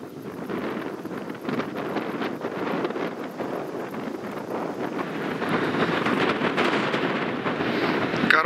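Strong wind blows outdoors on the Saratov steppe among birch trees, a continuous broadband rush that swells and gusts louder toward the end, with no speech.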